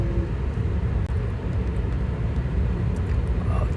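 A manual car engine rumbling steadily as the learner presses the gas during a first-day driving lesson, a close, low, continuous drone with no clear rev peaks.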